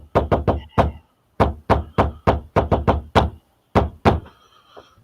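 Knuckles rap on a door in a loose shave-and-a-haircut pattern: sharp, close, loud knocks in quick clusters separated by short pauses, with no talking.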